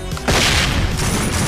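A flashbang grenade detonating in the video game SWAT 4, a single sharp loud bang followed by a sustained ringing, noisy wash.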